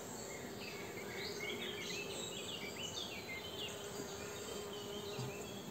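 Honeybees buzzing steadily around an opened hive during a June beekeeping inspection, a faint, continuous hum close by with no talking.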